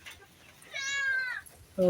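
A single drawn-out meow, fairly close and clear, rising and falling in pitch, with faint background noise and a brief louder sound at the end.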